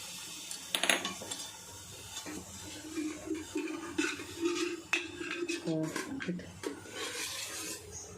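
A cooking pot is set down and handled for okra curry with metallic clinks, scrapes and knocks in an irregular rhythm, close by, while a person talks over it.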